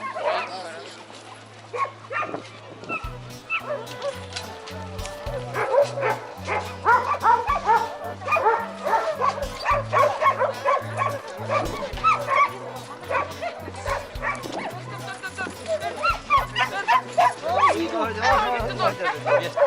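A male Yakutian Laika barks and yips repeatedly, close and loud, with whimpers mixed in, while other dogs and murmuring people sound in the background at an outdoor dog show.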